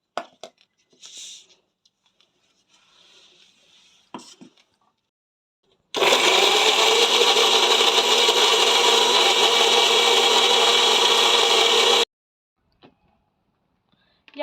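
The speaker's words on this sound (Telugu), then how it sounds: "దీన్ని ఇప్పుడు మెత్తగా మిక్సీ పట్టేస్తా." Mint and green chili chutney runs in a mixer grinder: one loud, steady motor roar of about six seconds, framed by quieter clatter and handling noises before and after.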